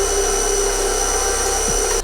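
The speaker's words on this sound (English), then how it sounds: "Pop it in and give it another whisk" An electric mixer whisking egg and vanilla into cookie dough gives a steady, close, loud motor whine with a constant high hum throughout.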